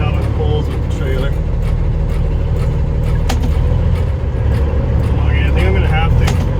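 A blacked-out Smokey and the Bandit tribute truck pulling a trailer as it is driven around the block, with a loud, steady engine rumble throughout and faint voices in the background.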